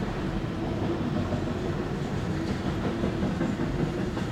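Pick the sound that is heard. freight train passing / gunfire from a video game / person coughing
freight train passing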